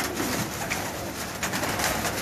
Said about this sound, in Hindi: ये कबूतर दिखाएं जी